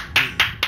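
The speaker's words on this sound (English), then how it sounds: "I clap" Three separate hand claps ring out close by at an even pace, each one sharp and quickly fading.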